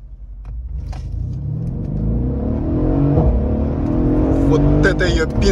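A Mercedes W212 E63 AMG accelerates hard in sport mode, its engine note climbing in a rising, rumbling roar that grows louder through the gears, heard from inside the car with a voice speaking over it.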